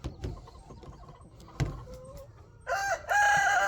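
Chickens in a coop kept for eggs, heard close with scattered clucks and a rooster's loud crow rising near the end, over faint background rustling; no talking.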